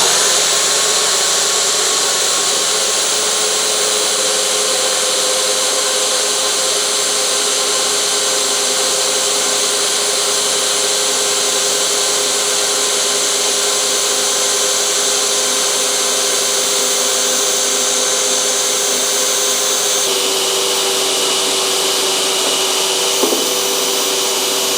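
Power saw cutting metal for a floating stair build, a long, loud, steady whining grind with a constant tonal hum that shifts slightly near the end, close up with no talk.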